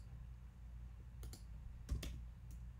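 Quiet computer keyboard typing while entering a search term, with a few scattered soft key clicks and a small cluster of taps over a low room hum.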